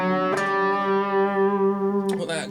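Electric guitar playing a G Ionian pentatonic idea: a picked attack leads into a long ringing, sustained note, then a fresh strike near the end, heard up close with no talking.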